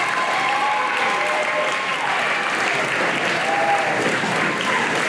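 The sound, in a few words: audience round of applause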